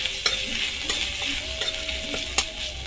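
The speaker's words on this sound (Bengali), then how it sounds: "কিছুক্ষণ তেলটা গরম হওয়ার পর ওতে আমি কুচিয়ে রাখা আদা দিয়ে দিলাম" Chopped ginger fries in hot mustard oil in a home kitchen, crackling steadily up close, with sharp spits and pops breaking through a constant sizzle and no voices.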